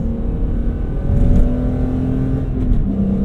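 A BMW E46 M3 with SMG gearbox and high mileage accelerates from inside the cabin, a loud steady engine drone with a rising tone and a brief shift near the end.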